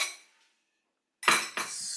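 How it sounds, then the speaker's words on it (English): Fork stirring eggs in a bowl for matzah popovers, giving a few sharp clinking scrapes against the bowl after a brief silence, close and clear without talk. "Stir it up."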